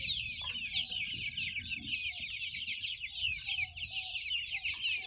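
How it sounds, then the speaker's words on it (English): A flock of Cornish cross meat chicks and red star laying chicks peeps and clucks continuously in a brooder, a dense high chatter of many birds with faint low background noise. "The white ones are the Cornish cross. They are the meat birds. And the brown ones are called red stars."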